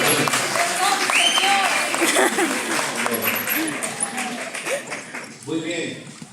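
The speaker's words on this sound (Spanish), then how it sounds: "Un aplauso a los hermanos." Applause for the musicians at a Catholic charismatic music gathering in Mendoza, Argentina: a room full of clapping, fairly loud, with voices and cheers mixed in that fade toward the end.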